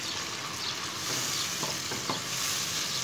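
Tomatoes, peeled after freezing, fry and are stirred into masala in a pan for an arvi gosht curry, giving a steady, fairly quiet sizzle with a few soft scrapes of stirring and no talk.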